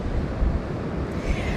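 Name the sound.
strong wind noise on microphone outdoors at Skegness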